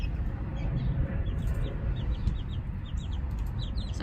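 Plymouth Blue and Amberlink chickens clucking softly in a small backyard flock, a busy stream of short, close chirps and clucks over a low outdoor background.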